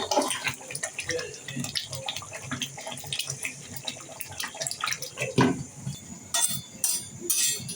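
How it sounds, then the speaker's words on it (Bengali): Dried fish, including chepa shutki, being washed clean by hand in water, with continuous close splashing and sloshing and a few sharper splashes toward the end. "এগুলোকে আমি ধুয়ে পরিষ্কার করে নিচ্ছি"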